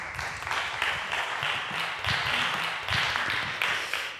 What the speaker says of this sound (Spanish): Un fuerte aplauso para Ana Hernández.